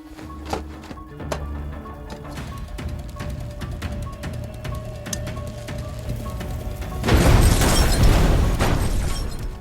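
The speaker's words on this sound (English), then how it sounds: "When they saw the weapons inside the vehicle blown to pieces" A movie effect of weapons inside a vehicle being blown apart. Scattered pops and crackling build to a loud, broad blast near the end that lingers as a dense roar.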